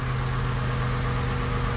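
An inline six-cylinder car engine, likely in need of a new exhaust, idles steadily and smoothly with a close, even low drone and no voices.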